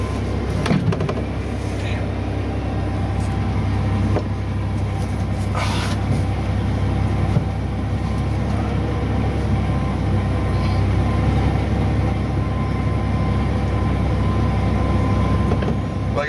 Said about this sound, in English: Riding in the back of a pickup truck, holding on the canoe